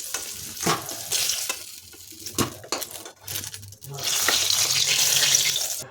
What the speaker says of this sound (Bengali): তেল ঝরিয়ে বেগুনগুলো তুলে নিতে হবে।